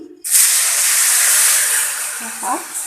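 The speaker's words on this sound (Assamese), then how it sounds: "পনীৰখিনি ভাজিম।" Paneer pieces hit hot oil in a pan with a sudden loud hiss that holds steady and then eases slightly, while a voice speaks briefly near the end.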